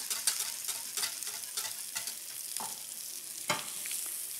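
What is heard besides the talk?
stirring pastrami spaghetti sauce frying in a pan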